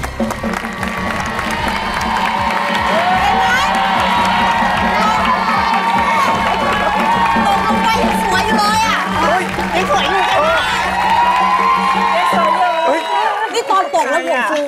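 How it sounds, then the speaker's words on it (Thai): A studio audience on a Thai talk show cheers and applauds loudly, with shouts and whoops over continuous clapping, then cuts off abruptly near the end. "ขอเสียงปรบมือต้อนรับคุณออแกนหน่อยครับ"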